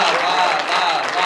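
Steady, dense applause from the audience at a Hindi poetry gathering, a continuous wash of clapping at a fairly loud level with no pauses.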